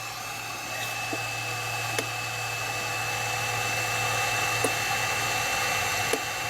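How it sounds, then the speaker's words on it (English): A hot air blower on a 2-in-1 soldering rework station runs steadily at high temperature, giving a constant airy whir with a low hum beneath and a few faint clicks. "That's not bad for a blower. Hot air."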